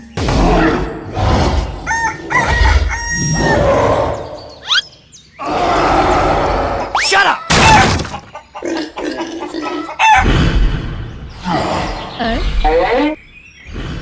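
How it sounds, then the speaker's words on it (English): A rooster crows several times, loud and close, amid excited talking voices and other noisy commotion. "The rooster crows in the morning"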